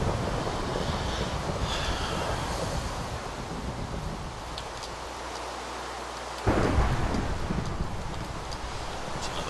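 A thunderstorm in Minecraft with the Feed The Beast modpack plays in a hilly biome: steady rain hiss and a low rumble, then a sudden sharp lightning crack near the end, with no talking.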